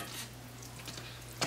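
Deer burrito filling fries in a cast iron pan, a faint, even sizzle with a brief clatter near the end.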